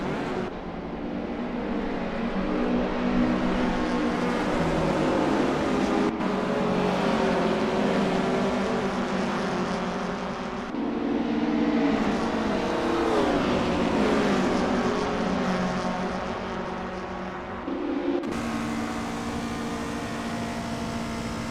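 Engines of 1000cc dwarf race cars roar continuously during a race, revving and shifting in long rising strains with gear changes, loud and close throughout.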